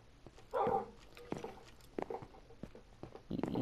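A dog in the video game Minecraft, on a hard-mode survival world, makes short barks and yips. They come in scattered, irregular bursts of moderate loudness with no speech.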